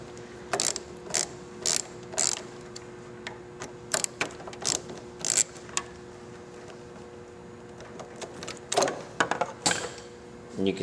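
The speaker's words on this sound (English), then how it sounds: "You would just take your screws out." A ratchet backing out the handlebar screws on a motorcycle: short bursts of quick clicking spaced across the stretch, close and crisp, with quiet pauses between them.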